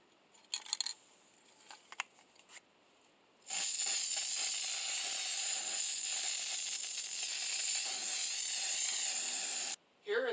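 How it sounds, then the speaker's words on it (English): A few light clicks and rattles, then a loud sustained aerosol hiss of Rust-Oleum bronze hammered-finish spray paint on a pipe floor lamp lasting several seconds, a brief pause, and the spray starting again. "To finish the lamp, I'm using this Rust-Oleum spray paint."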